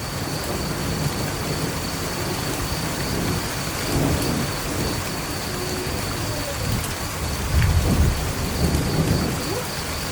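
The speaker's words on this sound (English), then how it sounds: "the first thing it gave me was storms and lightning" Steady rain falling at night during a thunderstorm, with low rumbles of thunder rolling in and a louder swell near the end, a faint high insect-like tone running throughout.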